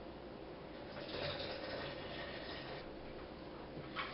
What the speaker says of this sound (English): And then to that add your milk.